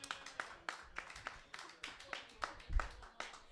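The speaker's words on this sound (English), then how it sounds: "That was a horrible smattering, you sons of bitches that are applauding" Sparse, scattered clapping from a small comedy club audience, a thin smattering of individual claps with a few louder thumps, fairly quiet and close, with no voices over it.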